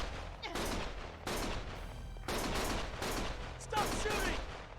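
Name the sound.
gunfire in the video game Lost Judgment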